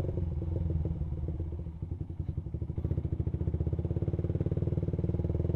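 A fuel-injected Suzuki Satria motorcycle engine revs on a test ride, a close, rapid throbbing pulse that quickens steadily as it climbs through the revs.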